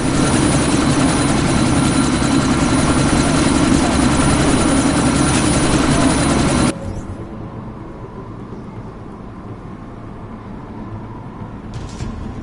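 Helicopter taking off in Deus Ex: Mankind Divided, a loud steady rotor roar close by that cuts off abruptly partway through, leaving a quieter low engine rumble, with no talk.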